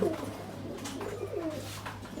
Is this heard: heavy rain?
no